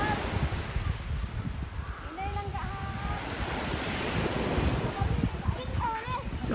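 Surf at San Remegio Cove beach on Samal Island rolls and washes in a continuous broad roar, with wind buffeting the microphone and a few faint high chirps drifting over the water noise.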